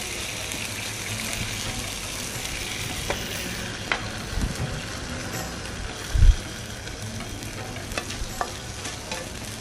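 Fillet steak laid over potatoes sizzles steadily in a hot pan, a constant close frying hiss with a few soft scrapes and one brief low thump near the end.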